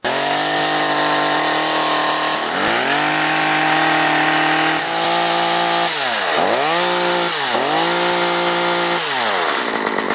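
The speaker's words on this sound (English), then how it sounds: "start up your chainsaw, run it for a bit, do not cut through wood." A chainsaw engine runs steadily and loudly, revving up and down several times with the chain spinning freely to check bar and chain oiling, no cutting into wood.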